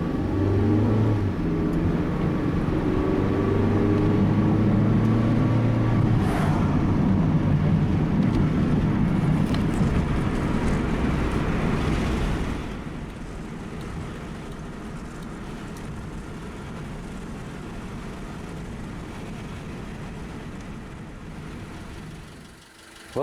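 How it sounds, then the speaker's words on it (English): A Honda Civic being troubleshot for engine problems rumbles steadily on a test drive, a continuous low engine and road drone with an early rising tone, dropping to a quieter cruise midway. "Now we'll go ahead and drop it into gear, and I'll take you guys for a test drive too."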